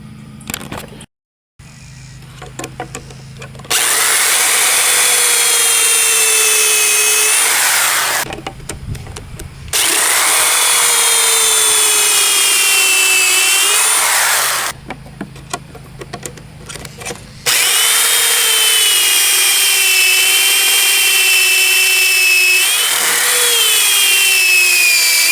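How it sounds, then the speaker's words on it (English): Power drill boring pocket holes in wood for a cubby shelf, with three long, loud, steady whining runs, each a few seconds, separated by short pauses and handling noise. "let me go ahead and drill these pocket holes"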